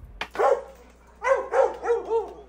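A dog in a Mexican film barks once, then after a pause gives four quick, close barks in a row, loud and clear with nothing else over them.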